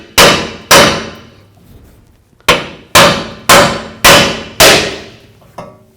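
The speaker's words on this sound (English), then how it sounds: "I'm going to use a punch and a big hammer and just tap" A big hammer strikes a steel punch to tap a Chevy Tahoe torsion bar forward, seven loud ringing metallic blows in uneven groups, each decaying quickly, with a lighter tap at the end.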